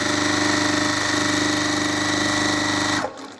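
A Juki sewing machine running flat out at full speed gives a steady, loud, even mechanical whir with a dense hum. It continues unbroken for about three seconds, then cuts off abruptly.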